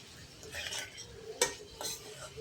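Spiced paneer stuffing stirred in a pan, a faint sizzle under a few quick scraping and clinking spoon strokes, close and brief.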